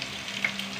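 Ginger, shallots and green chillies sauté in hot oil with a continuous, close sizzle and a few small pops, heard alone without voices.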